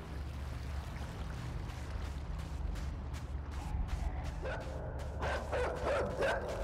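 A dog in a horror video game barks and yips in a short run near the end, fairly loud over a steady low rumbling ambience.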